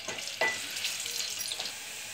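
Onions dropped into hot oil in a pot for a Hyderabadi besan garlic dish, a sudden burst of sizzling after a clatter, settling into a steady close hiss.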